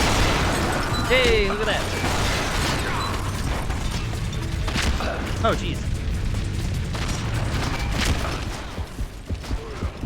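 Explosions and crashing in the Red Steel video game, with repeated booms and mechanical clatter that stay loud and busy throughout while someone talks over them.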